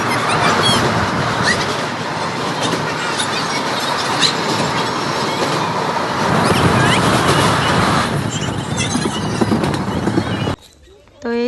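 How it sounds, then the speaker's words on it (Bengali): A passenger train pulls away from Kasimbazar station with a loud, continuous rolling rumble and rhythmic rattling of wheels and cars that fades at the end, with a little voice activity in the background. "তো এই দেখো ট্রেন আমাদের কিন্তু ছেড়ে দিয়েছে।"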